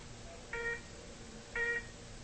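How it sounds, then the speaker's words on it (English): A hospital beeper sounds two short electronic beeps about a second apart, faint and clear over a quiet room hum, with no speech. "Let me turn this beeper down"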